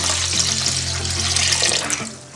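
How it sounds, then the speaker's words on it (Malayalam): Continuous splashing and rushing water as leftover cooked rice is rinsed in a bowl, steady and close, fading slightly at the end. "ഇതുപോലെ 2 തവണ നമുക്ക് വാഷ് ചെയ്തെടുക്കാം"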